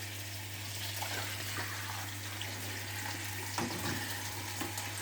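Vegetable broth cooked with fennel is poured through a filter in a restaurant kitchen, giving a soft, steady watery trickle and hiss over a constant low hum, with a few faint clinks.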